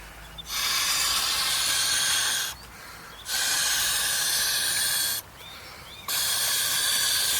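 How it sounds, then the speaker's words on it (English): Air hisses from the small two-way valve as a Kokopelli Nirvana packraft seat base is inflated. Three long, loud bursts come up close, each lasting about two seconds, with short quiet breaks between them. "this is the seat base with a little valve, not a one-way valve on this, so we can inflate the seat"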